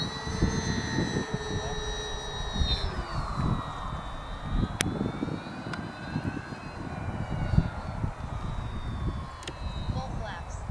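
An Avios Twin Otter twin-engine STOL radio-controlled plane flies overhead with a steady, high electric motor whine whose pitch slowly drops as it passes, under outdoor wind noise and background talking.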